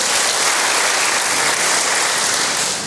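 A church congregation bursts into sustained applause for God, a dense, even wash of clapping from many hands that holds steady throughout before easing slightly at the end.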